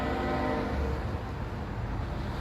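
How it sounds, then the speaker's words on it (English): A train rumbles loudly and continuously close by, with a sustained tonal horn blast in the first half that fades into the heavy rolling drone. "Just like that train is making that loud noise."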